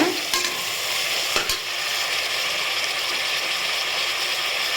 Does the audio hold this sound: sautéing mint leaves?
yes